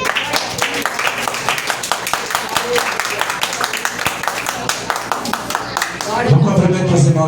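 Congregation clapping in church, a dense rhythmic patter of many hands sustained throughout, loud and close, swelling slightly toward the end.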